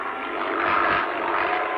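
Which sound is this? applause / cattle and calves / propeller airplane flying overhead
propeller airplane flying overhead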